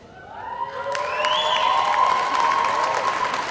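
An audience at a Binghamton University spring commencement applauds to welcome a student speaker, with clapping swelling quickly to a full, sustained ovation and a few cheers mixed in.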